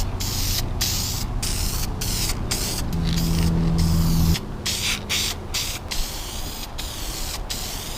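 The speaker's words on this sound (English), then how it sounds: "we're going to go on ahead and hit these with a couple coats of paint and get them all looking nice" Paint sprays onto 1966 Mustang sun visors in a loud, continuous hiss, broken by regular short pauses between passes, with a steady compressor-like hum underneath part of the way.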